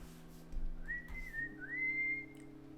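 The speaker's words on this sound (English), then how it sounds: "I think the whistling isn't too loud" A person whistles a short, soft tune of a few sliding notes over a quiet background hum.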